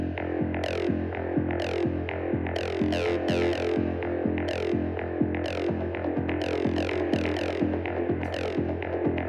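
A squelchy, resonant melodic techno acid synth line pulses in a fast repeating pattern over a steady, deep sub bass, with no voices.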